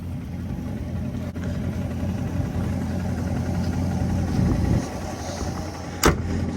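A C7 Corvette engine runs at a steady, low, close rumble with a faint whining drone from the transmission area, and a brief sharp click sounds near the end.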